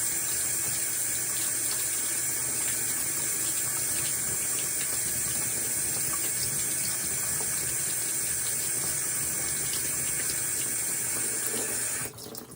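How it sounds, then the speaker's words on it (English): Steady running tap water rinsing a glass jar pours and splashes continuously, a broad hiss that stops abruptly near the end. "Carefully rinsing to make sure that it's not splashing."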